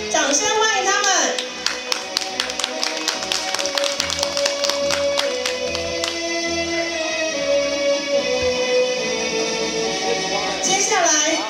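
Sustained crowd applause welcoming the referees at a Taiwanese corporate rugby league match, a dense steady wash of many hands clapping for about ten seconds, with a tonal sound running underneath.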